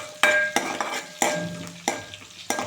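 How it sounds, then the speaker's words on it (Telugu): Butter dropped into a hot pan of oil and onion for mutton kofta curry gravy, with repeated stirring scrapes and bursts of close sizzling at an uneven rhythm, no voices. "ఇక బటర్ వేస్తున్నాను."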